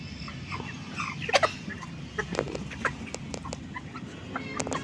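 Two-month-old Kabir chicks cluck and peep in soft, scattered bursts as they sunbathe in a backyard flock, with a steady low farmyard murmur underneath.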